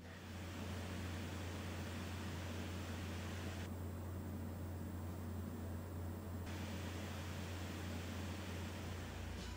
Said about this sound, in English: the fans emit a lower frequency than the high-pitched whine I'm used to